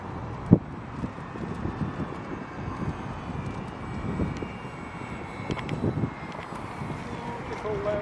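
A Tundra V2 RC airplane comes in to land on a windy day, its engine a steady faint drone behind constant rumbling wind buffeting the microphone, with a single sharp knock early on.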